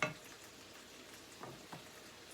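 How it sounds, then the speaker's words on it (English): Rice stirred in a pot gives a very faint, soft sizzle, with a light scrape at the start and two small clinks of the utensil later, low and close in a quiet kitchen. "Stir our rice, make sure we're not too hot in there."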